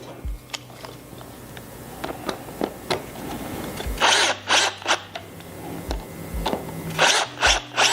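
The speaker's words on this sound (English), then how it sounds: "So I'm going to reapply these new screws in." A power drill drives new screws into a plastic battery compartment in several short whirring bursts with clicks and pauses between, close and distinct.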